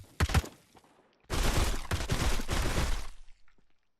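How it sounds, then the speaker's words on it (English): A video-game weapon fires at zombies: two sharp shots, a brief pause, then a loud rapid burst of automatic gunfire for about two seconds before it cuts off with a short echoing tail. "Let's test out the weapon's firing now."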